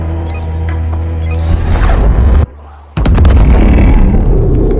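Loud blasts from the Predator's weapon in the film Prey, a dense roaring burst of noise that cuts out briefly to a muffled lull, then slams back in with sharp cracks and a sustained rumble.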